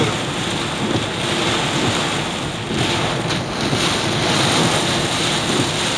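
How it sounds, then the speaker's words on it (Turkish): Heavy rain with walnut- and hazelnut-sized hail in Silivri gives a dense, loud, continuous roar of pelting and rushing water with gusty wind noise, steady throughout and close by. "Arada dolu geliyor."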